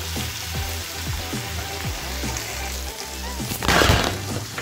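Potatoes frying in a pan of hot oil for aloo curry, a steady dense sizzle with occasional stirring clatter and a louder burst of crackle near the end.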